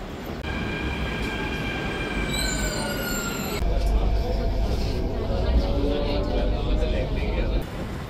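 A crowded Mumbai metro train running from Ghatkopar to Andheri: a steady rumble and rolling roar with whining tonal hums, growing louder partway through, under a murmur of voices in the carriage.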